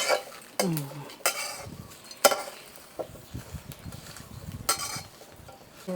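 Dried chillies and kaffir lime leaves dry-roasted in a pan give a soft, steady sizzle and crackle, punctuated by several sharp scrapes and clinks of a utensil stirring against the pan.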